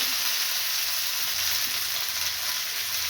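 Garlic, mustard seeds and turmeric sizzle steadily in hot oil, a continuous bright hiss with no talking, even in loudness throughout.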